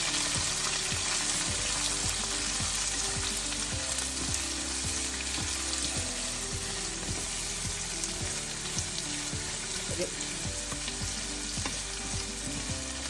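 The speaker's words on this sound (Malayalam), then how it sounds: "അരിഞ്ഞു വെച്ചിരിക്കുന്ന സവാള, അതിൻ്റെ കൂടെ പച്ചമുളക് കൂടെ ഇട്ടേക്കാം." Chopped onion and green chillies frying loudly in a pan for a clam meat dish, a dense continuous sizzle with rhythmic scraping strokes of stirring throughout.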